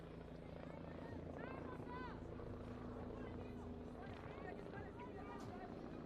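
A helicopter flies over the Eurovea shopping center in Slovakia during an outdoor 3x3 basketball event, giving a steady rotor drone under crowd hubbub and commentary.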